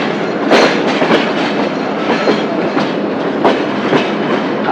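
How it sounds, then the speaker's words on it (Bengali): A train rolls through a long curve on the Ishwardi bypass in Bangladesh, its loud steady rumble punctuated by repeated clickety-clack wheel beats over rail joints, heard close from on board. "আমাদের ট্রেনটি এখন কার্ভ নিচ্ছে"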